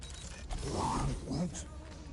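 A door mechanism in the video game Anthem grinds open with a creaking, ratcheting scrape that swells around the middle and again near the end, fairly loud over a low rumble.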